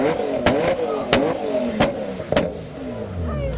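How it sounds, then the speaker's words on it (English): A supercharged 500 wheel horsepower Nissan 350Z with a custom rear end revs hard in several quick bursts, the engine note rising and falling about once every half second, loud and close. "We got this 500 horsepower Nissan."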